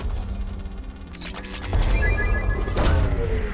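A probe launches in Mass Effect Legendary Edition with a surging whoosh and thump that swells midway and carries on over a steady game hum, followed by a second sharp burst.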